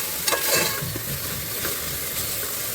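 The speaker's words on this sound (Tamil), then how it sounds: "இது கொஞ்சம் நேரம் நல்லா ஃப்ரை ஆகட்டும்." Homemade ginger garlic paste frying in hot oil for vegetable biryani, a constant close sizzle with a few stirring scrapes near the start, no voices.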